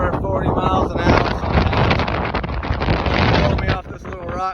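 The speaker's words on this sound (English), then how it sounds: "The wind, you can probably hear it. It's pretty crazy." Strong gusting wind buffets the microphone on the Rocky Top summit in the Great Smoky Mountains, a loud, continuous roaring rush that swells and eases in gusts across the whole stretch.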